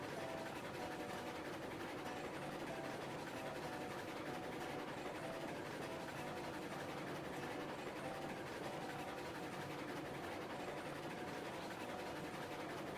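Steady rumble and clatter of a train rolling on rails in the video game Railroads Online, continuous and moderately loud throughout with a dense broadband texture and no talk.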